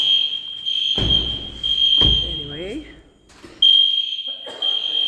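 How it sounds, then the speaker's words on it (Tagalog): A high, steady fire alarm tone sounds continuously during fire alarm testing in an apartment building, breaking off briefly, with a few thuds and people talking underneath. "Meron palang fire alarm testing dito sa building."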